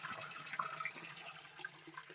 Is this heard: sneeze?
no